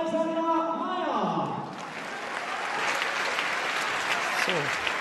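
Spectators at a diving competition break into applause just after an announcer's voice fades, a broad crowd clapping that carries on at moderate level with some voices underneath.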